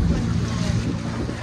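Ocean waves wash in a steady, dense rush with wind noise on the microphone, with no distinct breaks, while faint music may sit underneath.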